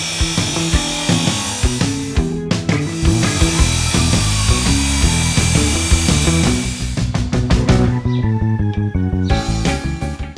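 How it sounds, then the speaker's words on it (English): A power tool cuts channels into a wooden centre spar for a mini pontoon boat deck, a loud close grinding rasp in repeated passes with brief pauses and changes in pitch. "Now I had to cut channels in the centre spar to fit over the C-section pieces."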